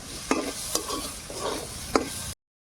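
Crumbled fried scrambled egg stirred into a pan of mixed carrot vegetables, a soft continuous sizzle broken by three or four sharp scrapes of a spatula against the pan, close and fairly loud, with no voices.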